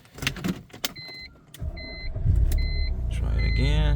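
Idling engine of a 1999–2005 BMW 3 Series, a steady low rumble that swells after the start and holds, close, with a few electronic chimes and brief clicks over it.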